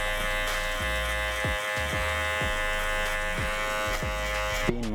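Electric hair clippers fitted with a 1.5 guard and the lever fully open, cutting hair on a comb-over fade. The motor's loud, steady buzz runs throughout, with repeated brief dips as the blades pass through hair.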